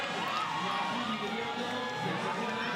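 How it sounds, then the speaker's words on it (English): Crowd at a lead climbing World Cup final in Villars cheering and shouting encouragement for a climber, a continuous distant roar of voices with scattered whoops, fairly faint. "Lots of support from the crowd as he starts to go left."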